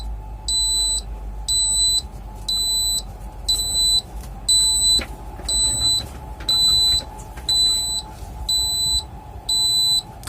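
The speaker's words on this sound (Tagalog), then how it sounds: "Now we got a P1 alarm." A Dixell XR60CX refrigeration controller sounds a P1 sensor fault alarm: a regular series of ten sharp, high-pitched beeps about one per second, steady and close over a low hum.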